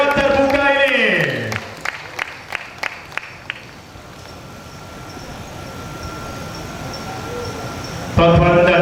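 Audience applause in an open hall at a Sabah cultural dance event, a scattered round of clapping that follows a spoken announcement and settles into a low crowd murmur before the voice resumes.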